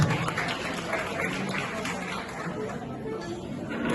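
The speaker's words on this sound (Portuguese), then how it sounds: "Então, salva de palmas" An audience at a Brazilian family TV show awards night applauds a trophy recipient, a fairly faint, steady wash of clapping with crowd murmur mixed in.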